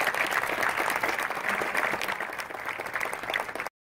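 An audience gathered for a museum inauguration day in Gainesville, Florida claps in dense, sustained applause, steady and fairly loud, until it stops suddenly near the end.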